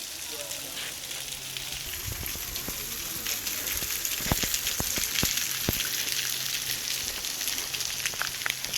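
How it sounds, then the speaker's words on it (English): Water drips off rock beside a walking trail, giving scattered sharp ticks and small splashes over a steady wet hiss of background noise, fairly close and with no talking. "Water here, dripping off the rock."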